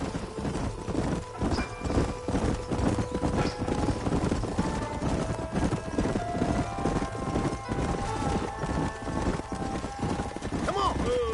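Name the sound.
horses' hooves galloping in the video game Red Dead Redemption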